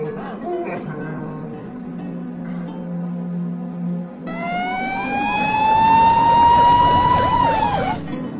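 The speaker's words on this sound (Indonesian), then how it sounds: "dari kejauhan terdengar suara sirine mobil polisi" A police car siren wails, rising and sweeping, growing louder as if approaching from a distance, over a low hum and earlier muffled tones.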